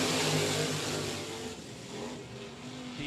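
Dirt track race cars roar together as the field accelerates on a green flag restart at Hunt County Raceway, a dense, loud, continuous engine wash that swells then eases slightly as the pack pulls away.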